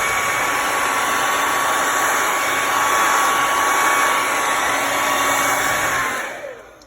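A hair dryer blows across wet acrylic pour paint, pushing white into blue to form waves; a loud, steady airy roar with a faint motor whine runs continuously, then cuts off and fades at the end.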